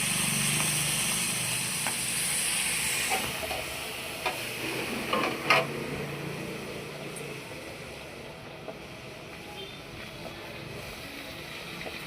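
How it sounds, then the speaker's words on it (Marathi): Fish fries in hot oil in a covered kadhai on a stove, a steady close sizzling hiss with sporadic crackles and pops that gradually settles a little quieter. "फिश अशी तडतड तडतड आवाज येते ते उडली नाही पाहिजे म्हणून आपण प्लेट झाकून घ्यायची आहे"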